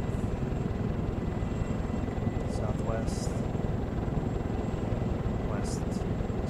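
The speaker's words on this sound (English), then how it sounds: "So the chopper needs to go just straight west." A helicopter in the military video game ArmA 2: Operation Arrowhead flies with a constant loud rotor and engine drone, a dense steady rumble with faint brief radio-like blips over it.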